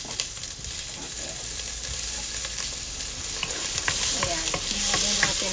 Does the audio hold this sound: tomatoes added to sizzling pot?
yes